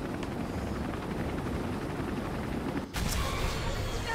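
Helicopter in the video game Resident Evil 3, a steady loud rotor drone mixed with gunfire-like bursts and game noise, with a brief dropout near the end.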